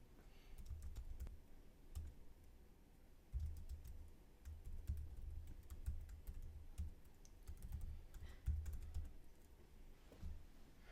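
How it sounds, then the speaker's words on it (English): Computer keyboard keys clatter in short bursts of typing as commands are entered, with brief pauses between runs of keystrokes, quiet and close. "we can type some commands using the keyboard"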